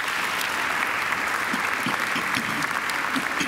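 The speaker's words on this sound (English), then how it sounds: "I think John deserves another great round of applause." A graduation ceremony audience applauds in a steady, dense wash of clapping from many hands, continuous and fairly loud throughout with no talk over it.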